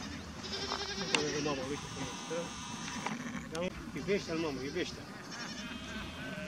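Sheep and a newborn lamb bleat repeatedly at close range on a farm just after a birth, with wavering cries rising over a steady hum and people talking nearby.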